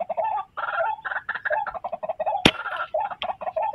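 Bird chirping and calling repeatedly outdoors in rapid, busy bursts, fairly close and loud, with one sharp broadband crack partway through.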